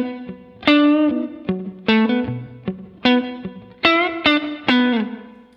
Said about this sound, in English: So good, short, splashy reverb, good for rhythm playing.